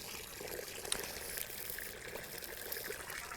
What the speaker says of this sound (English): filling it up with water